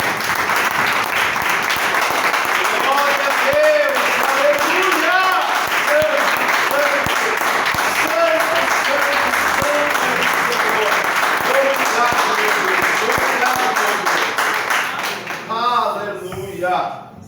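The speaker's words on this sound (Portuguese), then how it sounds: "Você pode aplaudir ao Senhor?" A church congregation at a Portuguese-language service applauds steadily and loudly, the clapping mixed with voices calling out over it before it thins near the end.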